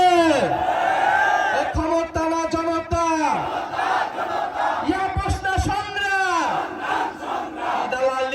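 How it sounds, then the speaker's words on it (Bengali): A crowd at a street rally in Jamalpur chants slogans together in loud, rhythmic bursts, with a leader's call answered by many voices, close and energetic throughout. "আমরা স্লোগানের মাধ্যমে আজকের পথসভা সম্পন্ন করতে চাই"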